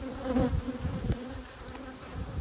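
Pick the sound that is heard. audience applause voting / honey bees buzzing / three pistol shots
honey bees buzzing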